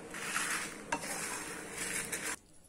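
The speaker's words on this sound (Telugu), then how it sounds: "కంటిన్యూస్గా కలుపుతూనే ఉండాలి।" Spices for kotimera karapodi, a Telugu coriander spice powder, stirred continuously as they dry-fry in a pan, giving a steady scraping, rustling texture with a few sharp knocks of the spoon against the pan before it stops abruptly.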